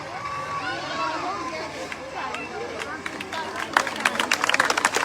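At a Teeyan Teej village festival in Jai Singh Wala, Bathinda, a crowd claps. A voice talks over murmuring at first, then the applause picks up into quick, scattered and increasingly dense claps near the end.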